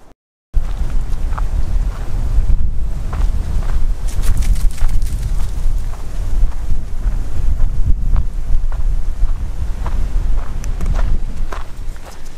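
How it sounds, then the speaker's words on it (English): Strong wind buffets the microphone outdoors on the water during a fly fishing trip for bass, a loud continuous gusty roar with faint scattered knocks and footsteps beneath. "It's just a little bit windy coming around that corner."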